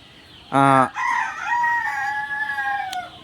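Egyptian Fayoumi chickens on a poultry farm in Ullapara, Sirajganj: a rooster lets out one loud, close crow, followed by softer drawn-out calls from the flock, with no talking.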